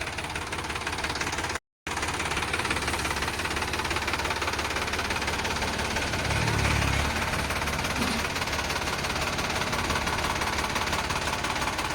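A Sonalika DI 745 diesel tractor engine idles steadily up close, a continuous knocking rumble with a brief dropout and a slight low surge midway.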